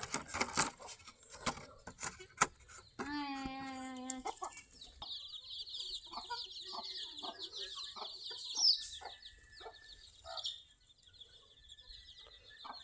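Desi chickens on a small open-air poultry farm cluck in short, soft bursts, with a longer drawn-out hen call and a sustained higher chicken call, heard fairly close over a quiet background.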